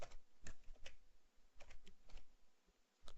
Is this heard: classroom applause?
no